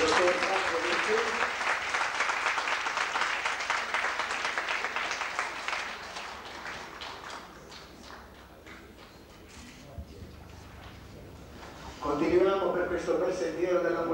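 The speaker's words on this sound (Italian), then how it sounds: "un applauso particolare al dottor Franco Vincenzi." An audience at an award ceremony applauds steadily for several seconds, the clapping fading into a quieter room before a voice speaks again over the background.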